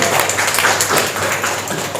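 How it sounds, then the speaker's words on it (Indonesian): An audience claps at a false-eyelash product launch, with a brief burst of dense, bright applause that stays loud and close for the whole stretch. "Boleh kita berikan tepuk tangan sekali lagi"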